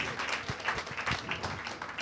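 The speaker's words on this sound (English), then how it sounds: "Let's give the Lord a great clap offering of praise." A church congregation claps in praise during a Sunday service, a dense, moderately distant burst of many hands with some sharper individual claps standing out.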